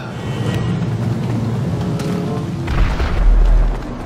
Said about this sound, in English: Well, grenade launchers.